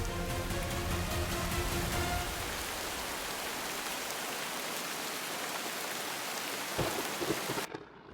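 Steady heavy rain pours down with a low rumble of thunder underneath at first, the downpour continuing alone before a brief crackle and a fade at the very end.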